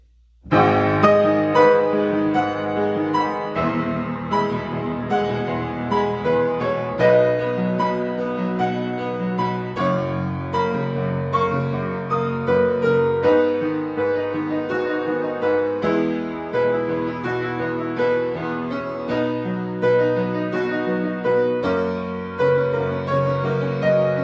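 Solo piano playing a flowing passage, bass and treble notes interlocking in a steady rhythm, moderately loud with no talking.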